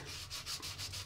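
Sandpaper rubs back and forth over a plastic 1977 Ford model car body, soft rhythmic scraping strokes, about four passes, quiet and close with no speech.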